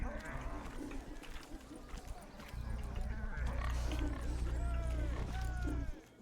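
Pigs being herded into a pen in The Witcher 3, with grunting, oinking and scattered bird chirps over a low rumbling game background, heard under intermittent talk.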